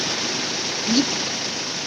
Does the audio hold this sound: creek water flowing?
yes